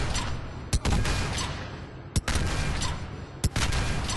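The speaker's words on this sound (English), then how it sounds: "I was trying to fire at its maximum rate, which is difficult because of its massive recoil." Three heavy single shots from the Saber rifle in the video game Mass Effect 3, fired at its maximum rate with pauses of about a second and a half between them, over a loud, constant background roar.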